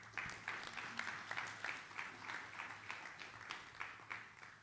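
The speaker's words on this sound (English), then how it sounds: "we'll actually start the meeting with a massive round of applause for Smith+Nephew, Raki, Andy, and the whole team." An audience applauds at a fracture forum medical meeting, rhythmic clapping with regular beats, fairly close and steady, lasting the whole moment without talk.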